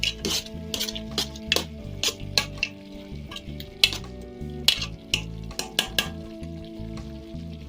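A spoon stirs Jamaican brown sugar grater cake mixture with grated ginger in a bowl, making repeated scraping strokes in an even rhythm. The sound is close and moderately loud, with no talking.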